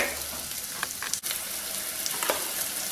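Chopped onions frying in a pan for Tamil pepper kulambu give a continuous close sizzle, broken by a few light stirring scrapes and one brief dip, with no voices.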